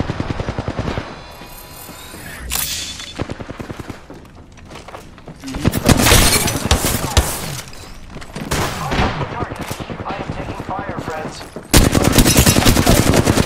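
Apex Legends gameplay brings bursts of rapid automatic gunfire and heavy shots that rise and fall across the stretch, loud and close, with players talking over the action.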